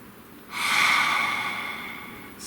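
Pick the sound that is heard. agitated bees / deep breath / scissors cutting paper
deep breath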